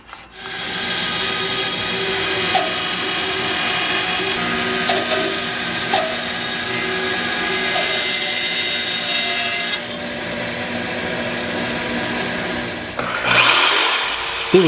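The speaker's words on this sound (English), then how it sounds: "It was easy enough to cut the arcs into the short pieces of the apron on the bandsaw" A bandsaw cuts arcs into reclaimed wood apron pieces for an outdoor dining table, giving a loud, continuous whine and rasp of the blade through the wood for nearly the whole stretch, with a few small bumps and a shift near the end.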